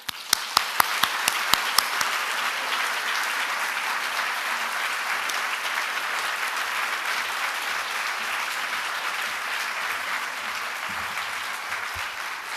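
An audience at the JCCSF breaks into sustained applause to welcome author Karen Armstrong, beginning with a few sharp separate claps before swelling into dense, even clapping that carries on steadily for the whole stretch.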